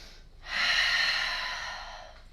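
A single long, audible breath drawn in through the nose while holding a yoga pose, starting abruptly and slowly fading, close and fairly loud with no talking.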